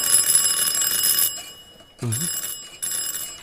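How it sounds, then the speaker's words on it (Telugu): Electric doorbell ringing at a house door, loud shrill bursts of ringing, a long ring followed by two shorter ones with brief pauses between, and no voices. "ఏ ఎదవో బెల్ల కొడుతున్నాడు, వాడికి స్వాగతం పలకండి."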